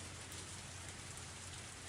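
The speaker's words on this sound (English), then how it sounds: "I'm gonna turn the sound down a little bit with that rain." Steady rain pattering on a surface, a continuous even hiss with no pauses and no voices.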